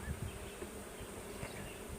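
Dense, steady buzzing of many bees at a large, healthy hive split during a full inspection, a continuous close drone with no talk over it.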